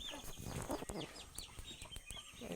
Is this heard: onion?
no